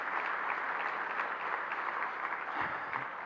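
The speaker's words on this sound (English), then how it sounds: "Let's give them all a round of applause." Banquet audience applauding steadily, a dense even wash of many hands clapping throughout a large room at a community dinner, no voices over it.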